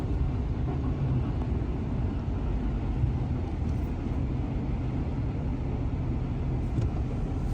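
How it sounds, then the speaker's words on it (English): A big haul truck rumbles past at a stone quarry, a continuous loud low engine roar and road noise holding steady throughout, no speech. "Here comes a big haul truck hauling butt."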